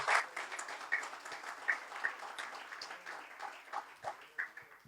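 A church congregation at a Hispanic conference in Europe applauds, moderate clapping heard at a distance with a few sharper claps standing out, no speech over it.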